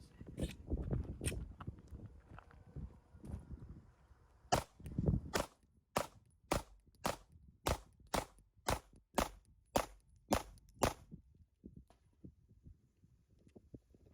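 A Glock 43X pistol fires about fourteen crisp shots in a quick, evenly spaced string, each report sharp and close, with some rustling and movement sounds beforehand.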